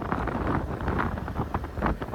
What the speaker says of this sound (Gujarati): ફૂલ જાય રહ્યો બાઇક મિત્રો.